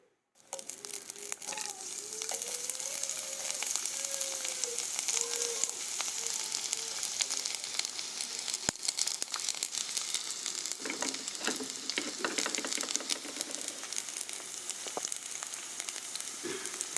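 Garlic hits hot cooking oil in a pan and sizzles and crackles steadily and close up, with scraping stirs and a few bumps throughout.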